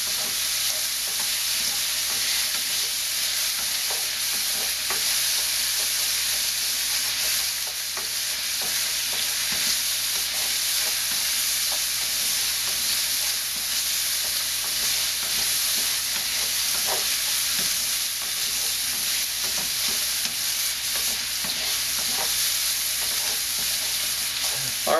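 Pieces of ginger fry in a hot pan, a dense, steady sizzle that stays loud and close throughout, with faint scrapes of stirring and no talking.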